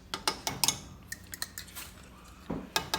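A metal fork scrapes and clinks against a cooking pot while pushing cabbage down, giving a run of quick, close taps and knocks with brief pauses between them.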